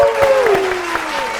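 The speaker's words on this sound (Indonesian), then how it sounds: "Tepuk tangan dulu." A crowd at a quiz show claps in dense, steady applause, with a voice sounding over it at the start.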